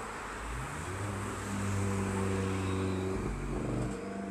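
Car engine revving up in a steady rising drone that holds, then drops and climbs again, fairly close and alone.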